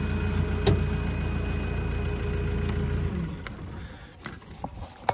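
A small site dumper's engine idles with a steady, close rumble, then its note shifts and drops as the machine is put into gear, followed by a few faint knocks and clunks.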